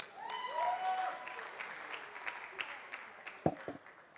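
Audience applause at a Nigerian stand-up comedy show, soft and scattered at a distance, with a few sharper claps standing out near the end.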